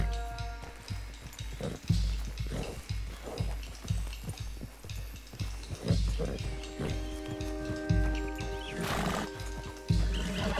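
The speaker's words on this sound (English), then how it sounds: "What's your problem, horse?" A horse in Red Dead Redemption 2 whinnies with a drawn-out neigh over steady clip-clop hoofbeats and ambient game noise, while someone talks at intervals throughout.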